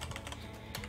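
Rapid, uneven clatter of keys on a computer keyboard, close and fairly loud, with no voices over it.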